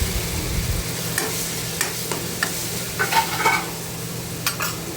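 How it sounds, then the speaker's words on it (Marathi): Green chili, garlic and cumin paste sautéed in a pan while being stirred, a steady sizzle under repeated scraping stirs that grow a little louder toward the middle, with no talk. "हे व्यवस्थित आपण परतून घ्यायचं आहे"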